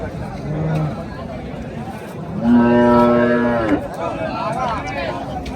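A Murrah buffalo lows loudly with a long, drawn-out bellow amid steady crowd chatter and bustle at a buffalo market in Ghodegaon.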